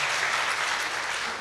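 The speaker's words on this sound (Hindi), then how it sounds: "पहले ही ताली बजाने लग रहे हैं।" A seated religious gathering's audience breaks into sustained, even applause, a dense wash of many clapping hands that fills the whole moment at steady loudness with no voices standing out.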